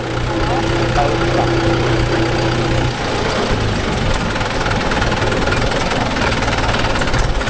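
A Mahindra 575 DI tractor fitted with cage wheels idles loudly nearby, a steady heavy diesel chug with knocking vibration, and a voice speaks briefly over it.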